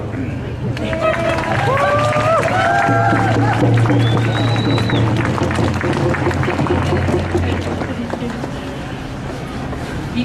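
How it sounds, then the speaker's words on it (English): Crowd applause at an outdoor Idle No More anti-fracking support rally, sustained clapping mixed with cheers, whistles and background chatter, with a low steady hum underneath. "Round of applause."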